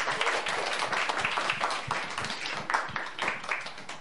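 Audience applause for a young singer at a children's Saint Sava celebration show, a dense steady burst of many hands clapping that stays loud across the whole moment without any voices over it.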